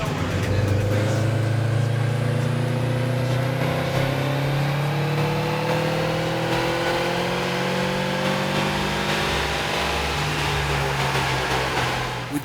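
A 2003 Subaru WRX wagon with aftermarket exhaust and intercooler revving on a dyno, the engine note climbing steadily through the gears in a long sustained pull, loud and close with a droning rising whine.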